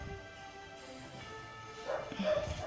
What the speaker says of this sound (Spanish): Perdón por los ladridos del perro